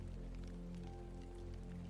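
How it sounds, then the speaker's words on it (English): Gentle rain falling, a soft steady patter and hiss without pause, faint and alone with no talking. "The soft sounds you hear, the gentle rain,"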